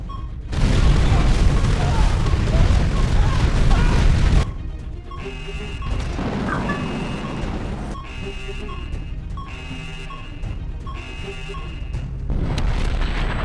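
A loud, dense rumbling blast from a launch in the Art of War 3: Global Conflict strategy game roars for several seconds, then gives way to lighter repeating game effects and beeps.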